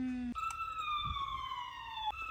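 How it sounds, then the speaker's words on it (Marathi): A toy fire engine's electronic siren wails in a steady, slowly falling tone, close and clear, cut off by button clicks at the start and end. "सायरनचं बटन पुन्हा एकदा दाब"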